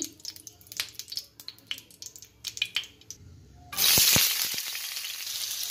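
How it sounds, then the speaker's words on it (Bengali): Light clinks and soft kitchen clatter, then oil and ghee burst into a loud, close sizzle as sliced onions are dropped in to fry for biryani. The hiss stays strong and steady to the end. "এখন আমি বেরেস্তাটা ভেজে নেব"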